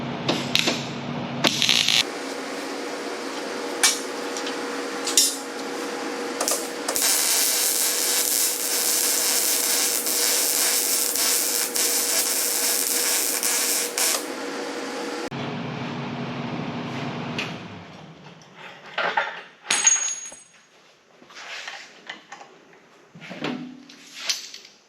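Welding on a Chevy squarebody truck gives a steady, loud, hissing crackle that lasts about eight seconds, with shorter bursts and scraping shop noises before and after.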